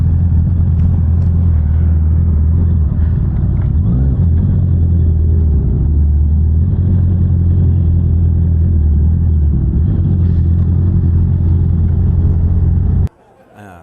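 A crowd of big bike motorcycles idles and rumbles outside a grill and restobar after a Sunday ride, a loud, deep, continuous engine drone close by that cuts off abruptly near the end, with voices faintly mixed in.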